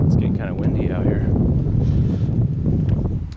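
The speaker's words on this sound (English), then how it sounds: "It's getting kind of windy out here." Outdoor wind at St. Armonds buffets the microphone with low rumbling gusts that run under a voice as he talks.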